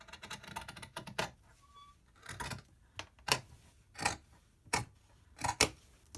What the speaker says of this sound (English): But I'm just going to use scissors because I'm crazy like that.